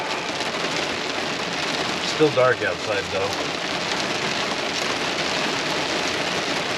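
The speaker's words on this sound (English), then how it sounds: "It's been raining for about a good hour." Rain falls steadily on a truck camper during an early-morning overnight thunderstorm, a dense, constant patter heard from inside, while someone briefly speaks over it.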